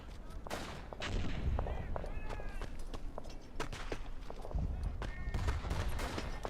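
Gunfire and a grenade explosion in the World War I shooter Verdun, on an Argonne trench map: scattered sharp shots and a deeper blast under steady battle noise, with people talking over it.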